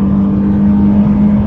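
A Nissan 400Z sports car drives in Dubai with a steady, loud, close engine drone that holds an even pitch under power throughout. No one speaks.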